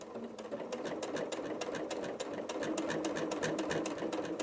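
A sewing machine runs steadily at a slow, even pace, its needle ticking in a rapid regular rhythm while top stitching a water bottle sling bag, close and clear with no talking.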